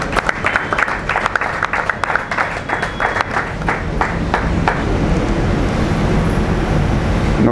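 A crowd at a political party meeting in Maniema applauds a deputy federal secretary, with loud, dense clapping of individual claps that gradually blends into a steady roar of applause.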